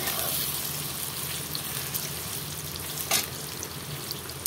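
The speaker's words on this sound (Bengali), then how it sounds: "বন্ধুরা আলুটাকে লাল করে ভেজে নেব এখন।" Potatoes fry in a pan, a dense close crackling sizzle holding steady, with a brief louder scrape of stirring near the end.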